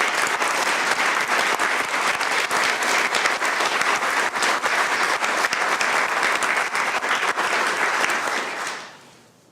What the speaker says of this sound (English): I think we owe a hearty round of applause to David Furlow, Judge Davidson, and all the organizers of this splendid event